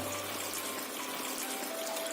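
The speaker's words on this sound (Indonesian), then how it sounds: "Jadi dia kucuran airnya tuh kayak rintik hujan gitu" A rainfall-style aquarium fountain for goldfish sends water down in droplets like raindrops, giving a steady, even splashing trickle that stays close and continuous throughout, with no voices.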